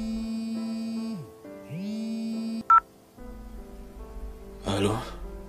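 Telephone tones sound as a call is placed: electronic beeps and gliding tones, a sharp high blip near the middle, then a ringing buzz, with music or voice underneath.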